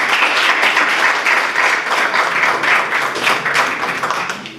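Audience at a panel on women's rights in Tamaulipas claps for the panelists, a loud, close, dense round of applause that rolls on steadily and begins to thin toward the end.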